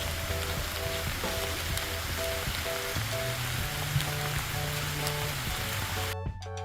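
Rain falls steadily on the Indiana Dunes with an even, hissing patter that lasts throughout. A faint tonal hum or drone sits underneath the rain.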